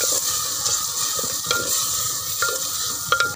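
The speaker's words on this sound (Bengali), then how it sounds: "এখন সবগুলো মশলা কষিয়ে নেব" Spices, salt and tomato pieces sizzle loudly up close in a clay pot while a utensil stirs them with quick scraping strokes, in a steady, unbroken fry.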